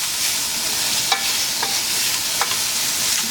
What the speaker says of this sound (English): Kind of move the pan around. This wooden spoon works pretty well.